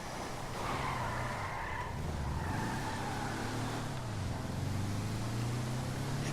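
A car in Grand Theft Auto V on PS4 drives with a steady engine drone and drawn-out tyre skids, continuous and fairly quiet with shifting pitch throughout.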